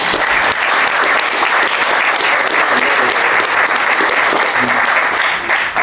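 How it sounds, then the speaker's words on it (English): Sustained applause from a sizable audience at a 2000 AD comics panel at Thought Bubble 2018, steady and loud throughout with dense, even clapping. "Give me a round of applause."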